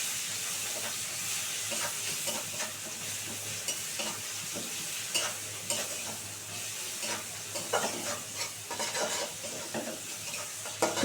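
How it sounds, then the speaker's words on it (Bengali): Sliced onion with a pinch of turmeric sizzles steadily in a hot pan, a continuous close hiss broken by soft scraping stirs and light crackles. "এটা খুব সুন্দর করে ভাজা ভাজা করে নেবো পেঁয়াজটাকে।"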